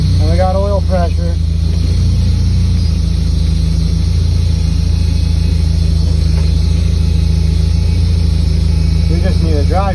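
Car engine running with turbo boost on a ride-along before tuning, air-fuel gauge not working; a steady loud low rumble fills the cabin throughout, with a voice at the start and end.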